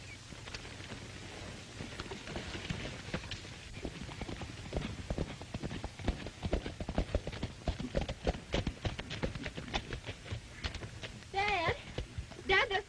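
Horses clip-clop in a 1939 western, steady hoofbeats running under ongoing talk with faint rain-like hiss in the background, the rhythm quickening toward the end.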